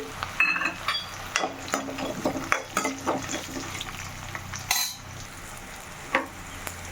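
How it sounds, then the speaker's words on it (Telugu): Peanuts fry in a pan for a peanut and tomato chutney, crackling and sizzling up close while a utensil repeatedly scrapes and clinks against the pan. "పల్లీలు వేస్తున్నా అండి"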